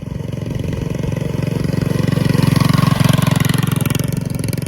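An old motorcycle, poorly jetted for cold weather and just pulled out of winter storage, runs at full throttle with a loud, steady, rapidly pulsing engine roar that swells slightly and then eases, close by and with no voices.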